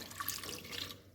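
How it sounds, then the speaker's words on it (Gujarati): Half a glass of water splashes into a pressure cooker holding tomatoes and salt, a short close pour with a bright, trickling gush and no talk. "સાથે આપણે કુકરની અંદર અડધો ગ્લાસ પાણી ઉમેરીશું"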